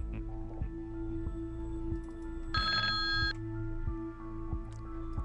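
A telephone rings in a horror radio drama, one clear electronic ringing burst in the middle over a steady low hum and faint ticking, with no voices.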